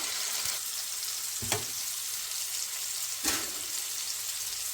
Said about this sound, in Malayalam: ചെമ്മീൻ ഇത്രയും വേണ്ട മതി ഇനി നമുക്കിത് മാറ്റിയിട്ട് അടുത്തതും കൂടി വറുത്തെടുക്കാം